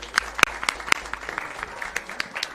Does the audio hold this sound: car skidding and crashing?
no